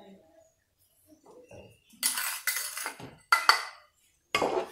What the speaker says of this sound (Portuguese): Vou acrescentar 4 colheres de sopa bem cheia de açúcar.